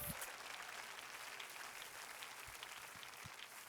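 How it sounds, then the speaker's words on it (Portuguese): A church congregation applauds during a sermon, a faint but continuous wash of many hands clapping with a few sharper individual claps standing out near the end. "vamos aplaudir Jesus Cristo"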